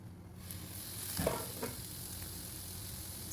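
Baby drumstick poriyal with ground coconut mix fries in a pan with a soft continuous sizzle and a couple of quiet stirring scrapes near the middle.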